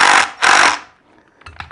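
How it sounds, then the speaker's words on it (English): An impact driver with a socket adapter, run in reverse during a bench grinder wheel install, gives two short, close whirring bursts that trail off into faint handling noise. "then we want to reverse the drill. This is actually an impact."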